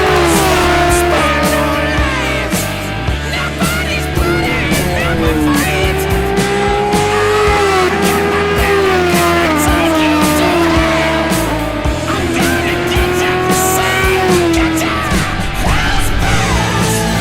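A Mazda FD RX-7 race car at a GridLife South Carolina event, its engine loud and close with rising and falling revs, tires squealing through corners and a faint yell in the mix.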